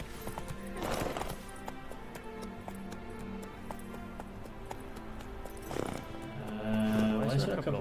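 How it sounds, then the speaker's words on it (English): Horse hooves clip-clop in a steady trot in The Witcher 3, mid-distance and even, with a brief whinny and game ambience around them. "There's a couple of horses here."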